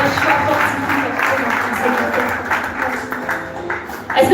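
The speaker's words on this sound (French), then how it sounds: "Est-ce qu'on peut applaudir?" An audience at a church conference workshop applauds to encourage a young girl, a moderate, even patter of clapping throughout, with a sharper burst near the end.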